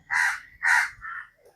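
A crow caws twice loudly and close, followed by a shorter third call, harsh and distinct against a quiet background.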